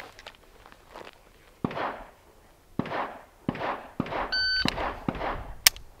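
At a shooting range during low-round-count drills, a Rost Martin pistol fires a series of sharp, loud shots in uneven bursts, and a shot timer gives a short electronic beep partway through.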